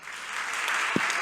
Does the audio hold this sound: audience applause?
yes